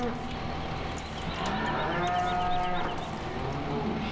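Cattle on a farm in the video game Farming Simulator 2015 give a drawn-out moo that rises and falls over a constant low background hum, with no clear talk over it.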